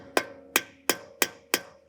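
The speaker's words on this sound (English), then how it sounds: "give it a couple taps with a hammer" Five sharp metallic hammer taps on a Porsche Panamera front brake rotor, breaking corrosion, evenly spaced about a third of a second apart, each ringing briefly before fading.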